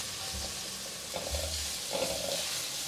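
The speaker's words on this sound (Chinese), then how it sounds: "把香菇炒香" Shiitake mushrooms stir-frying in hot oil in a wok for a vegan bitter melon dish, a steady soft sizzle with scraping stirs of the spatula, fairly quiet and close, no talk.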